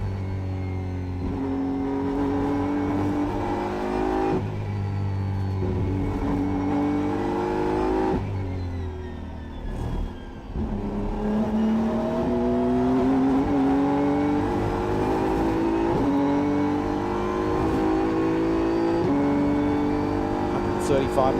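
Onboard a GT race car lapping Circuit of the Americas, the engine screaming up through the gears in rising sweeps with sharp drops at each shift and a dip under braking, loud and close while a commentator talks over it.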